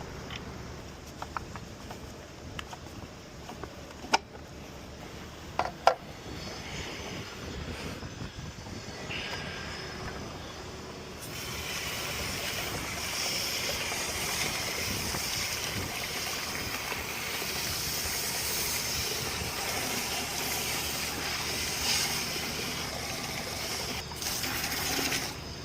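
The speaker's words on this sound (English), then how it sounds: "Then spray into the salt cell from the non-power cord side to rinse the blades." Water spraying from a hose into a Pentair pool salt cell to rinse calcium buildup off its blades, a steady broadband hiss that grows louder and fuller partway through, with a few sharp knocks early on and no speech.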